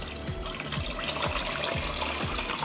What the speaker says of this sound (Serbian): U jednu šerpu stavila sam na dno krpu da tegle ne bi šetale, da se ne bi sudarale i sada ćemo naliti sa vodom